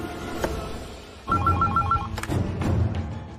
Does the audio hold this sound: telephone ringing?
yes